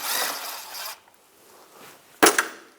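A socket wrench with an 8mm socket loosening the last bolt on a 2004–2010 BMW X3 during oxygen sensor replacement, a close, brief burst of ratcheting, a pause, then a sharp metallic clack.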